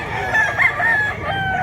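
Roosters crow at a crowded chicken market, a loud, close cock-a-doodle-doo with clucking underneath in a brief burst.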